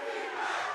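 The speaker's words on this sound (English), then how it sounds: "the crowd getting involved now" A crowd at a Valorant esports match, the 2024 Masters Madrid, roars in a brief, dense burst of cheering and shouting. It sounds distant and moderately faint.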